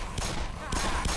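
Gunfire in Black Mesa, two thick bursts of shots amid loud chaotic combat noise, with speech partly mixed in.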